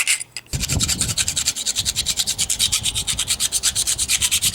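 Burrs being rubbed off the back of a metal plate: after a brief pause, a rapid, steady back-and-forth scraping strokes close up, loud and rhythmic with no talk.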